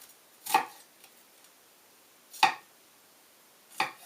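Three separate knife chops through an onion on a cutting board, sharp and close, spaced roughly two seconds apart against a quiet room.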